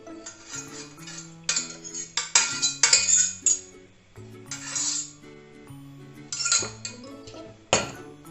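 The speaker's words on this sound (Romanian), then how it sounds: "Și amestecăm. Ar trebui să ne iasă un aluat lipicios." Flour, salt and egg mixture is mixed into savarin dough in a bowl, with bright clinks and scrapes of utensil against dish in irregular bursts, close up, over soft background music.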